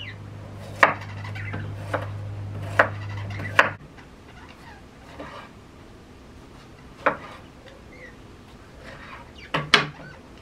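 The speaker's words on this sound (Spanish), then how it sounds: "El ajo lo voy a partir en así en rebanadas." A knife slices garlic on a cutting board for a Mexican pork backbone stew. The crisp taps come one at a time, spaced irregularly across the clip and heard up close, with a faint steady hum under the first part.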